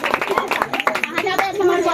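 Audience clapping at a Chhattisgarhi jatha stage program in Bemetara, a dense run of hand claps from a crowd, with voices and chatter mixed throughout.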